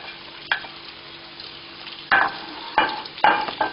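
Chopped eggplant sizzles in butter in a pan with a steady frying hiss, interrupted by several scraping stirs of a utensil.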